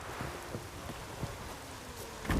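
Rain in the video game The Witcher 3, a steady soft patter of drops with faint rustling, ending in a slightly louder thump.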